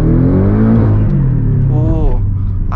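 A 2019 Porsche 718 Cayman GTS with a non-original aftermarket exhaust revs loudly and close by, its engine note rising and falling in sweeping pitch climbs with a deep rumble throughout.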